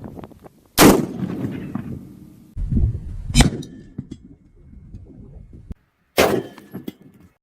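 .50 BMG rifle rounds are fired into an engine block: three loud, sharp separate shots, each with a metallic clang from the impact and a short rumbling tail, spaced a few seconds apart.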